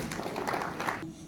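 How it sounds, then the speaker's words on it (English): Hands clap in a community meeting audience about gentrification in Woodlawn, a brief dense patter of applause at moderate volume that cuts off abruptly. "clap your hands."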